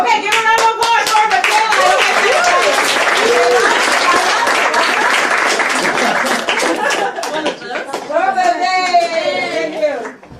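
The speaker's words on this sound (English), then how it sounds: "give a round of applause for" Audience at a comedy show in a bar claps loudly, with some cheering and vocal whoops mixed in, before the clapping thins out and voices rise near the end.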